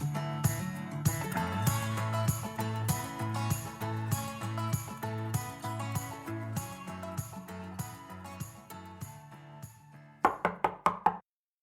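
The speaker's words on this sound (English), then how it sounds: "Miss Marshall heard a knock at her door." A door is knocked on in an audio drama: after a stretch of rhythmic music, a quick series of about five sharp, close knocks follows, then the sound falls silent.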